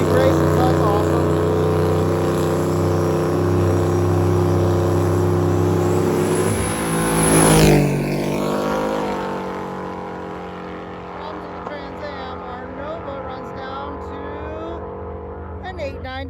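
Drag racing cars, including a Camaro, Trans Am and Nova, roar loudly at a strip on a hot day, with a car sweeping past in a rising then falling engine howl, and loud drones continuing under a commentator's voice.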